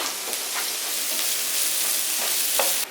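Onions frying in hot oil in a pan for a potato curry, a steady close sizzle with occasional stirring scrapes throughout.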